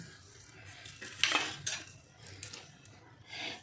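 Boiled potatoes being mashed and mixed by hand in a bowl for potato balls, soft squelching and a few light clinks of the bowl in quiet, close, irregular bursts with no talking.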